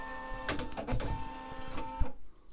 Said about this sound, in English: embroidery carriage is moving